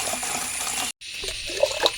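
Liquid groundnut cake fertilizer is poured onto plants in a steady, close stream of splashing water that breaks off for a moment, then resumes with light trickles and splatters.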